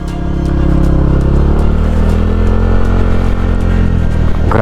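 Motorcycle engine climbing a steep mountain road toward a high-elevation village, a loud close steady drone with a strong low hum and rapid firing clatter throughout, alone without talk.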